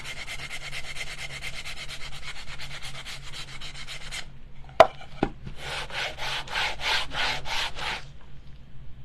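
Small Gator sander rubbing sandpaper against a wooden craft piece, a steady buzzing scrape that drops out midway, two sharp knocks, then returns in loud rhythmic pulses.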